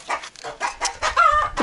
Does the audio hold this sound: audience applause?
no